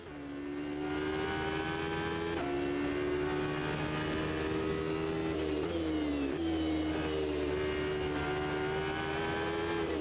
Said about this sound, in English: And yet this car engine does sound okay, I would say.